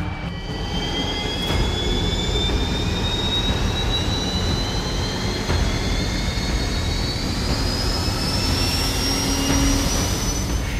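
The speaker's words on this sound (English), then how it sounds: "When you first hear the engine of an M1 start" A steady, loud turbine whine with rising high-pitched tones over a broad roar, an M1 Abrams tank's gas turbine engine spooling up continuously like a jet engine.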